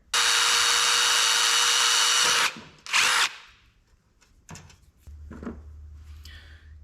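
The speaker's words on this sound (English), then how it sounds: "I'm going to drill a hole right there." A drill bores a hole for the throttle on a Coleman BT200X mini bike, a loud close whine for about two seconds, then a short second burst, followed by quieter clicks and handling noises.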